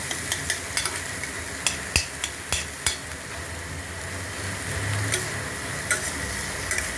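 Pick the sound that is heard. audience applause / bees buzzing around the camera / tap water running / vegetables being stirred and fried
vegetables being stirred and fried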